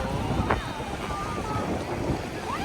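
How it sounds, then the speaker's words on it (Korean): Wind gusts across Hyeopjae beach on Jeju Island, buffeting the microphone with a continuous low rumble over a soft wash of nearby surf. "바람이 확 부는 게 대답을 해주시는 것 같네요."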